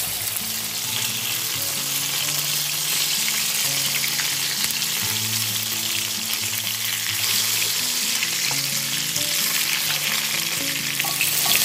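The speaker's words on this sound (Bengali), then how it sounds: "এবার তেল গরম হয়ে গেছে, ওর মধ্যে একটা একটা করে এই চাল কুমড়োগুলো দিয়ে দেবেন।" Stuffed ash gourd pieces shallow-fry in a little hot oil with a steady crackling sizzle throughout, and soft low knocks and rumbles of cookware sit underneath.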